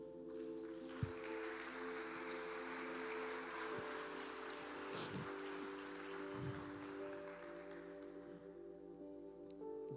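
A church congregation applauds during a Portuguese-language service, a steady wash of many hands clapping that holds for the whole stretch at moderate loudness, with a low organ or keyboard drone sustained underneath.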